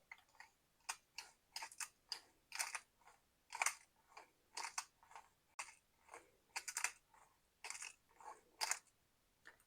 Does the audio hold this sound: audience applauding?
no